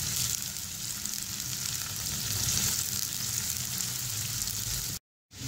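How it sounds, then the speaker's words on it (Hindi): Onions sizzle and fry steadily in hot oil in a pan over a medium-to-low flame, a close, continuous crackling hiss with no talking. "अब हम इसके अंदर प्याज ऐड कर देंगे।"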